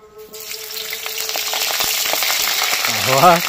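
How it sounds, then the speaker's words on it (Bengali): Cauliflower florets frying in fully heated oil, a loud continuous sizzle with crackling pops and stirring scrapes that swells slightly near the end. "তেলটা পুরোপুরি গরম হয়ে গেছে, আর ফুলকপিগুলো ভালো করে ভাজতে হবে, লাল করে"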